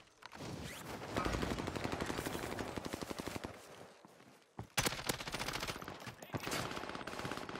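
Rapid automatic fire from the RAM 7 rifle in a video game, long sustained bursts broken by a short pause, fairly quiet overall and with no talk over it.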